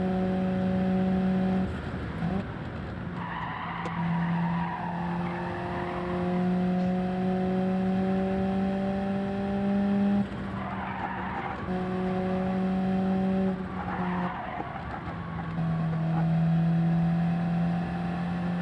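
Race car engine in Gran Turismo 7 during a daily race, revving hard through the gears with rising pitch sweeps, brief drops at each upshift, and some tire squeal, loud and continuous with no talk.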